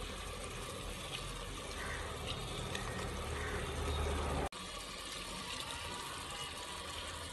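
Water pours steadily into a bowl of mutton kurma ingredients with lemon, a continuous close splashing flow that stops abruptly near the end.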